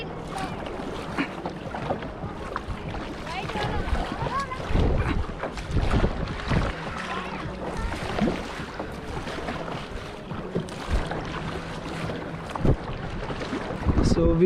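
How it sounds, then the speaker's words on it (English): Kayak paddling on the sea at Palolem, soft water splashes and paddle strokes with wind buffeting the microphone, a low steady wash throughout with faint voices in the background. "So we are doing kayaking"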